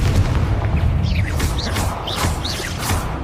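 Confringo fire spell blasts in the Hogwarts Legacy video game, a series of booming whooshes and crackling bursts repeating quickly over a dense, loud rumbling game soundscape.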